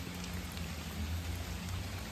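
Heavy rain pours steadily and close by during mushroom picking in Thai woodland, a dense continuous hiss with low rumbling underneath and no one talking.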